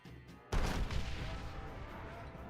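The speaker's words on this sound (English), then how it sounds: "These are some strong cannons." A single heavy boom of cannon fire in Red Dead Redemption bursts in after a quiet moment, followed by a rumbling, crackling tail of explosive debris.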